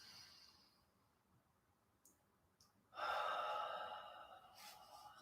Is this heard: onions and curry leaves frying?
no